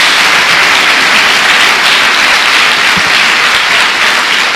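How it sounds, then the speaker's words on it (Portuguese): A church congregation gives loud, sustained applause, a thick and steady wash of many hands clapping together, close and constant throughout with no voices standing out. "Dê uma salva de palmas ao Senhor"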